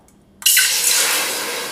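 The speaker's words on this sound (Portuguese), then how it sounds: "Vou colocar água." Water pours steadily into a pot sitting on the stove burner, a sudden loud rushing splash that begins abruptly and keeps running without a break.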